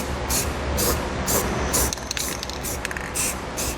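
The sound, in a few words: spray paint sprayed onto bare metal of trailer hitch install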